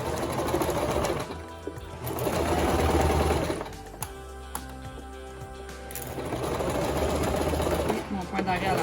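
A sewing machine runs in steady bursts stitching fabric pieces together for a small pincushion, its motor whirring continuously with brief pauses between seams and a faint voice underneath.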